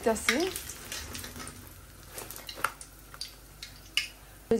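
Samosas frying in hot oil in a home kitchen, a soft steady sizzle with faint ticks and small utensil clinks, close and fairly quiet with no talking.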